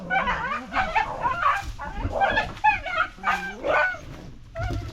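A dog yips, whimpers and barks in quick repeated bursts, loud and close, with voices talking over it.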